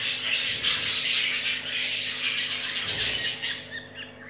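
Budgerigar chick chirping while being hand fed, a run of thin, high, rapid cheeps close to the mic, steady and continuous over a faint low hum.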